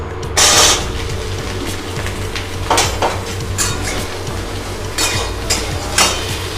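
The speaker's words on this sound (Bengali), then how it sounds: "গাজরগুলো হালকা করে ভেজে নেব।" Carrots lightly frying in a pan for khichdi: a steady background sizzle broken by several sharp utensil scrapes and clinks against the metal, close and with no voices.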